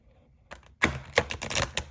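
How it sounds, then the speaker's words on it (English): A short, crisp burst of an Anne Stokes Gothic Oracle deck being riffle-shuffled, a few rapid clicks building into a dense rattle, close and fairly loud. "That was a pretty ugly riffle shuffle"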